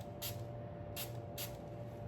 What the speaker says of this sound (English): I'm gonna spritz both sides, and I'm gonna do one on one side and then one on the other